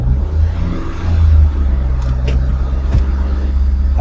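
A car raised on a lift before an oil change idles with a steady low rumble, its engine rising briefly with a light press of the throttle before settling back.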